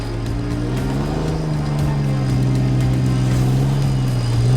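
A 4WD vehicle climbs a steep track, its engine revving hard and steady, the pitch rising and holding under load as it grinds upward, loud and close.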